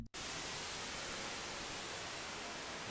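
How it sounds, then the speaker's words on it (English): White noise shaped by an EQ filter cutoff, with the low end thinned, gives a steady, even hiss that starts after a brief silence and runs unbroken to the end. "So it turns the white noise into this."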